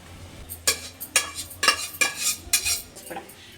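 Cooked rice being tipped into a pan of fried egg and stirred, a run of sharp metallic scrapes and clinks from a utensil against the pan, about six distinct strokes close up, with no talking.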